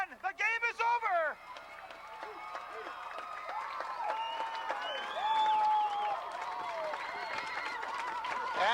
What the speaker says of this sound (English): This crowd is on its feet and applauding.